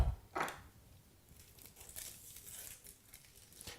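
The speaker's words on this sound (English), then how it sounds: "You're going to peel this onion." A red onion's papery skin is peeled by hand: soft, close crinkling and tearing crackles, with a sharper rustle near the start and faint scattered crackles after it.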